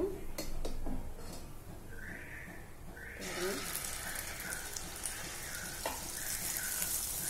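Chettinad kandhara appam batter is poured into hot oil and fries with a sudden, steady sizzle and light bubbling. The sound is fairly quiet and close, with a few soft utensil clinks before the batter goes in.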